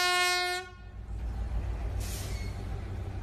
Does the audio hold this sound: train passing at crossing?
yes